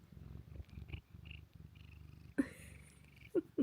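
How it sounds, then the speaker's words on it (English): A cat purring, a soft low rumbling pulse in regular breaths, close and quiet, interrupted near the end by a few sharper higher sounds. "You hear her purring?"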